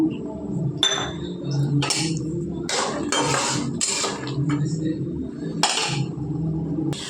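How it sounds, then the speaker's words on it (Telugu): Peanuts tipped into hot oil in a kadai while cooking a tempering for vermicelli pulihora, bringing bright clinking and rattling bursts over a steady low sizzling hiss, close and fairly loud. "ఆయిల్ హీట్ ఎక్కిందండి వేరుశనగలు వేసుకుందాము"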